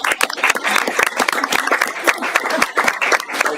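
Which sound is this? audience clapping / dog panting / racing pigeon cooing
audience clapping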